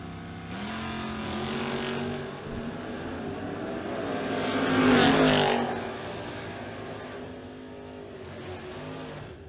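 Drag race cars, including a Chevy S10, tear down the strip in a Footbrake-class pass, with loud engines revving and rising in pitch, swelling to a roaring peak midway as they pass, then fading into the distance.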